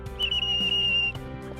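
A safety whistle blown as a signal during a jet ski safety briefing gives one sustained, piercing shrill tone lasting about a second, loud and close with no talk over it.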